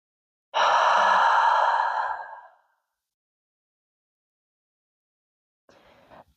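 A single long, deep exhale during a yoga flow, a loud breathy sigh lasting about two seconds, followed after a pause by a faint brief breath near the end.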